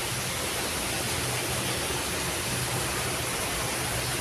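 Heavy torrential downpour with thunder and lightning during a cyclone, a steady dense broadband roar of rain that stays loud and unbroken throughout, with no voices.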